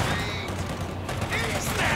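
Heavy machine gun firing in Company of Heroes 2 during a World War II battle, a dense continuous rattle of gunfire with booming impacts, loud and sustained through the moment.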